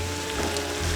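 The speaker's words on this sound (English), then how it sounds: "Let me put the beer in." Beer being poured into a gumbo pot, a steady close hiss and patter of liquid splashing into the pot for about a second.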